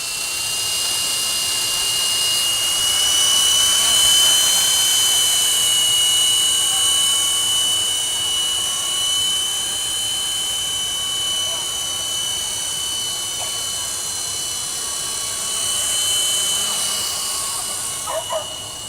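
A SilverLit LiteHawk AERO toy RC helicopter flies at top speed. Its small motor and rotor give a high, thin, continuous whine that swells and eases as the craft moves, lasting nearly twenty seconds.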